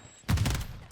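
A short, close burst of automatic gunfire from a Modern Warfare match, several quick rapid shots packed into under a second, starting abruptly after a brief quiet moment.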